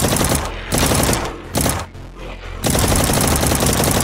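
Rapid nail gun fire from the shooter game Project Warlock, a loud continuous mechanical burst broken by two short pauses, with no talking over it.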